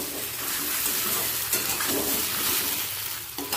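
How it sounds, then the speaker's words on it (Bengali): Runner beans and aubergine fry over a high gas flame, giving a steady, close hiss of sizzling oil with light stirring scrapes throughout. "প্রত্যেকটা সবজি 2 মিনিট হাই ফ্লেমে ভেজে নেব"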